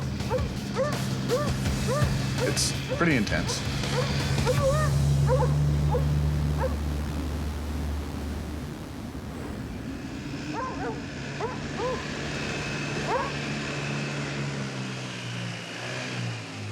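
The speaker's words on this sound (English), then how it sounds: "I get excited too when I hear my dogs get excited and they start winding up and barking" Several dogs bark and yip excitedly in rapid overlapping bursts over a steady low engine drone, with a brief spoken remark.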